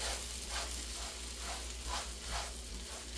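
Rice and tomato sizzle as they toast in a pan for a rice dish with Tuscan sausage. The frying crackle is close and continuous, with a few louder bursts as the mixture settles.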